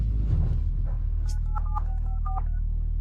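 A telephone number is keyed in, giving a quick run of about six touch-tone beeps in an uneven rhythm, fairly clear over a low steady hum, with no talking.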